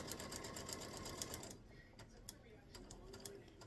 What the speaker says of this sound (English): we're just going to sew all the way around